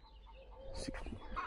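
A rooster clucks and calls briefly in the middle of the clip, fairly close, over steady background noise with no talk.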